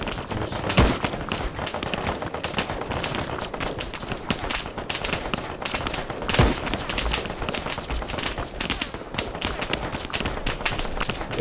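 Gunfire crackles through a Call to Arms video game battle, with rapid overlapping shots and bursts that rattle steadily and loudly across the whole stretch.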